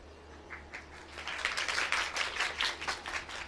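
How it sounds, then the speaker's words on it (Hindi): An audience claps during a Hindu religious discourse, a dense burst of applause building after a few scattered claps and holding steady, over a low hum. "ताली वाली मत बजाओ"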